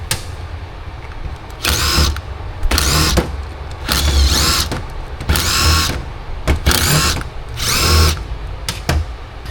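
Power drill whirring in repeated short bursts while backing out the carburetor bowl screws on a 40-year-old Mercury 150 hp Black Max outboard, six or so separate runs with brief pauses between, close and loud.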